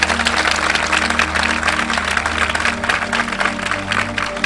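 A church congregation claps loudly and continuously during a pastor's sermon, a thick, sustained wash of hand claps over a low steady hum.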